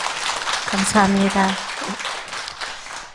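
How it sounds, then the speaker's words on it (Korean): An audience applauds a poet as a guest at a Korean poetry talk show, with a broad patter of clapping running throughout while a voice speaks briefly over it. "감사의 박수 주시기 바랍니다"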